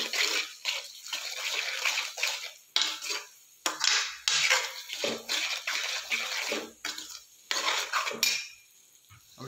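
A spoon scrapes and clatters in a cooking pan as onions are stirred for soya keema. The rhythmic metallic scraping is fairly close and continues in short repeated strokes with brief pauses, and no one speaks.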